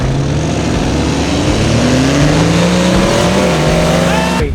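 A mud buggy engine revs hard and steadily during a 4x4 race, loud and close, with rising and falling pitch as it accelerates and shifts, running continuously without talk.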